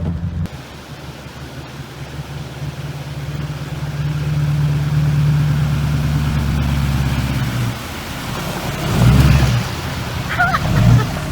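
A Duramax pickup truck engine drones steadily while floodwater rushes and sloshes around it, swelling into louder surges near the end; a voice speaks briefly underneath.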